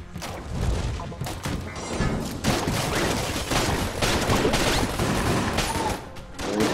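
Dense, continuous gunfire and bullet impacts in the video game Enter the Gungeon, loud rapid bursts layered into a nearly unbroken barrage.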